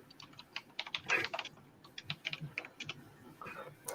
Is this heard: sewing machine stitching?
no